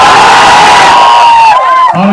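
A large political rally crowd in a stadium in Bihar roars and cheers loudly, a dense sustained wall of shouting and whooping close by, with one raised voice rising over it toward the end.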